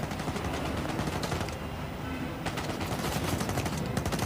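Rapid bursts of video game gunfire from Uncharted 4 on PS5, a dense crackling volley that fills the clip with only a short lull in the middle, loud and continuous with no speech.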